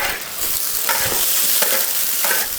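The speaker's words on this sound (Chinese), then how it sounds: "现在可以下排骨了。 要把它翻炒一下，" Pork ribs stir-frying in rendered oil with garlic and ginger, a loud steady sizzle with scraping stirs at intervals, close and continuous with no talk.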